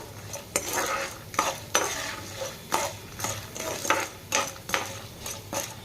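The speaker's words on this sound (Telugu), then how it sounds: "సో ఇప్పుడు మనం ముందు తీసుకున్న కొంచెం జీలకర్ర, కొంచెం ఆవాలు వేసేసుకుందామండి. ఇవి కూడా వేసుకొని కలుపుకుందాం బాగా." Cumin and mustard seeds frying in a pan for tamarind pulihora, stirred with a utensil that clinks and scrapes against the metal in a steady rhythm of distinct strokes over a faint crackling sizzle.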